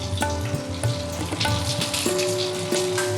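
Onion petals cut into large pieces sizzle steadily in hot oil in a pan, with clinks and scrapes of stirring over a continuous frying hiss, close and moderately loud.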